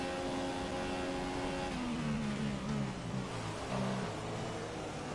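A Lotus Formula 1 car engine in the F1 2014 racing game, a continuous high-pitched drone whose pitch dips and wavers as the revs shift, steady and close throughout.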